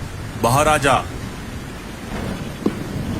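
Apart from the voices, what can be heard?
heavy rain and thunder in a forest, cartoon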